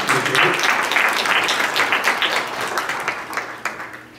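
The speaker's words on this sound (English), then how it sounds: "Round of applause for these guys." An audience gives a round of applause after thanks at a closing address, a steady wash of many hands clapping at moderate distance that slowly thins out over a few seconds.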